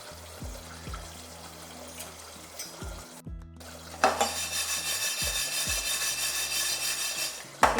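Mustard seeds for a raw mango pickle fry in a hot pan, a low crackle with stirring knocks that swells into a loud, dense sizzle halfway through.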